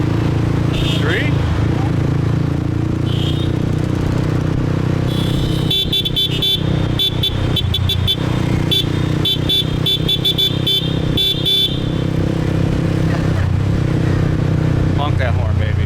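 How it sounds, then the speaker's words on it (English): Car horns honk in repeated bursts through a dense swarm of motorbikes on Saigon's District 3 streets at night, loud beeps layered over a steady engine drone, with people talking throughout. "Honk that horn, baby."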